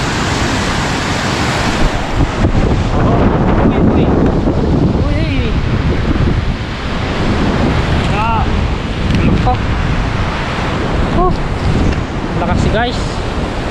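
Strong typhoon wind buffets the microphone beside rough water, a loud continuous roar with surging gusts and surf beneath, while someone talks intermittently over it.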